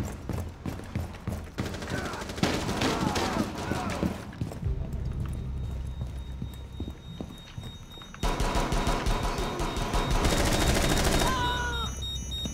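Gunfire from a pistol and other weapons in a Rainbow Six Siege match crackles in bursts of sharp repeated shots, with game effects around them and a player talking over parts of it.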